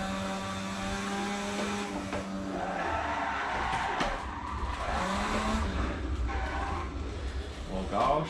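A high-revving Mazda RX-7 engine in the racing game Assetto Corsa drones and shifts pitch as gears change, with a low rumble underneath and some background talk.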